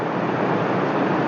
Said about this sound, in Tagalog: Malakas na yung tubig mga kaibigan.